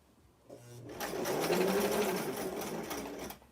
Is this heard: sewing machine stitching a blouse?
yes